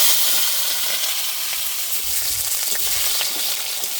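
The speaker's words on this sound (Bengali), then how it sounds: "কেটে রাখা আলুগুলো দিয়ে দিচ্ছি।" Cut potatoes fry in hot mustard oil in a wok with cumin seeds and bay leaves, giving a loud, steady sizzle with a few soft stirring scrapes and no talk.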